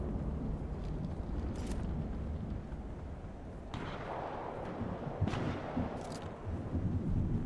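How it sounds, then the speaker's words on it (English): Continuous heavy gunfire in Fortnite rumbles and crackles throughout, with a few sharper bursts standing out against the dense, booming background. "some more gunfire over there"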